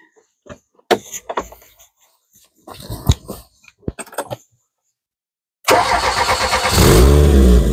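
A 1991 Renault 21 TXI engine cranks and catches after some scattered knocks and clatter, then settles into a loud, steady mid-pitched idle.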